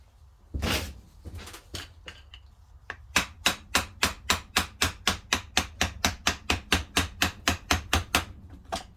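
Sharp metallic taps from a small hammer on a 2004 Honda Odyssey part, a couple of heavier knocks first, then a fast, even run of about twenty strikes, close and loud.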